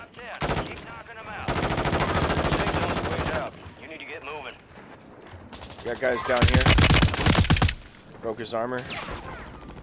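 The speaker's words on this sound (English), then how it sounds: "Ooh, getting shot at." Gunfire in a Call of Duty match: loud bursts of rapid automatic shots cut in and out of close, excited talk, with the heaviest volley coming late before the players keep speaking.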